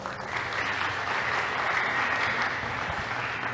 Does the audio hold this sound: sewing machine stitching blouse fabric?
no